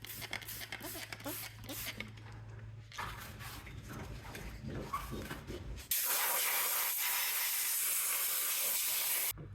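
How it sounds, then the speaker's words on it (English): Isopropyl alcohol sprayed from a can onto the ground connections of a 1994 Chevy K1500 truck, heard as close, loud continuous hissing bursts following quieter handling noises. "I'm gonna use some isopropyl alcohol to spray it off and clean it"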